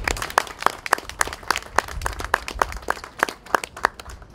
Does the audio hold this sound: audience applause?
yes